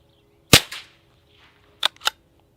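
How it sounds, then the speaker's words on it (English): A suppressed .22 LR rifle fires supersonic rounds through a Bowers Bitty silencer: a sharp, loud shot followed by a short echo, then two more quick cracks about a quarter second apart, with quiet outdoor background between. "Definitely supersonic rounds. I could hear that crack downrange."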